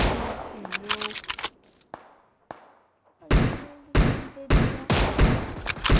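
Video game gunfire from computer-controlled bots: a dense, loud volley of close shots opens, two isolated cracks follow after a short lull, then heavy repeated bursts resume to the end, with a brief voice early on.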